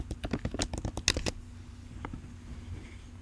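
Keyboard typing for a chat app, a quick run of close, crisp clicks in the first second and a half, then a couple of scattered taps over quiet room tone.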